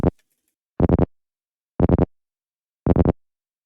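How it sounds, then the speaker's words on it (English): Hard techno psy bass synth patch built in Serum 2, sounding as three separate bursts of three short, punchy, heavy low stabs, each group evenly spaced with silence between, loud and alone. "Okay, our Psy Bass right now sounds like this."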